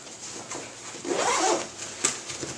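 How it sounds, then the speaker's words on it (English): The zipper on a Rush 72 backpack runs in a quick, close pull, its rasp swelling in the middle, then a sharp click and a few softer tugs. "the zippers don't really get, they're not in the way, they don't get hampered by the kind of material that it is, so it's extremely easy to zip"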